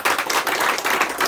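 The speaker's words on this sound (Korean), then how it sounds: "우리 하나님께 영광의 박수를 올리겠습니다." A church congregation claps together during a Sunday service, a dense, continuous patter of many hands close by with no talking over it.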